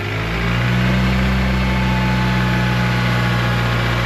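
A car engine idles steadily through a custom exhaust, a loud, close, continuous low rumble with a constant hum that holds even throughout, with no talking.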